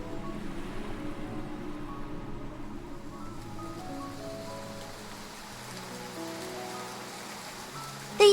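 Steady rain falls in the fantasy realm of the video game Love and Deepspace, a soft, constant hiss of drops on surfaces with low ambient musical tones underneath, no voices.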